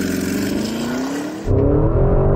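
A Porsche Cayenne Turbo GT launches hard from a standstill, its loud engine note rising steadily through the revs, then a brief gear change with the roar resuming strongly, heard close and alone.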